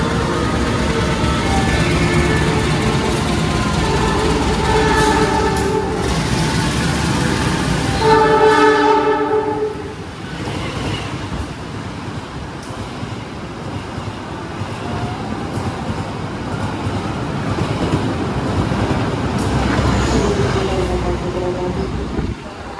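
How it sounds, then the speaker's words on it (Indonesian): Argo Wilis passenger train running straight through a station on track 2 without stopping, a loud rumbling pass with a horn-like tonal burst near the middle, then a lower steady roll of wheels as it recedes. "jalur 2 akan ada kereta api Argo Wilis melintas langsung ya"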